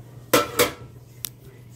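Metal pots and pans clatter twice in close succession while being handled in a kitchen cupboard during cleaning, followed by a sharper lighter clink; near and fairly loud, with no talk.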